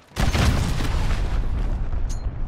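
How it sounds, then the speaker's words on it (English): Cruise missile blast in Call of Duty: Modern Warfare, a sudden heavy boom that rolls into a sustained low rumble and crackling debris, loud and close, with no talk over it. "Allied cruise missile launched."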